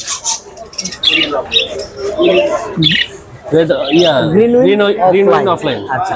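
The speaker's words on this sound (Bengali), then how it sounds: "ফুল ট্যাম করা একটি লাভবাট পাখি রয়েছে" A fully tame lovebird gives short, sharp squawks while people talk close by at the Mirpur 13 bird and pigeon market.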